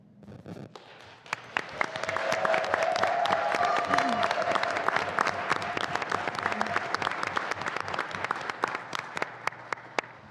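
An evening event's audience gives a big round of applause for students, dense sharp clapping that builds within two seconds and holds strong and close, with crowd noise and faint voices mixed in.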